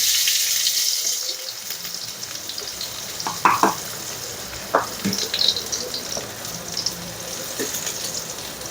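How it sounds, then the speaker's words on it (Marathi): Onion goes into hot oil in a pot while cooking Goan-style chicken shagoti, giving a broad steady sizzle with several clinks and scrapes of a utensil, close by and with no talking. "तेल चांगलं तापलेलं आहे, आता त्याच्यामध्ये आपल्याला कांदा घालून घ्यायचा आहे."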